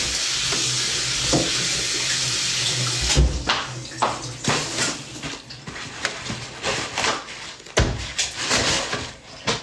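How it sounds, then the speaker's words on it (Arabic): Hands are washed under a running tap: a steady hiss of flowing water gives way to uneven splashing and dripping bursts as the hands move under the stream. "خليني اغسل يدي واوديكم"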